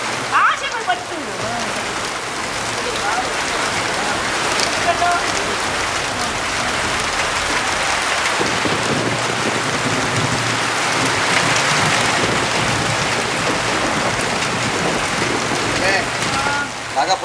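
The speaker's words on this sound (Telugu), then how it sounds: "బయట జోరున వర్షం, ఉరుములు మెరుపులు." Heavy rain pours as a stage play sound effect, a dense, loud, steady hiss filling the whole stretch, while people speak over it.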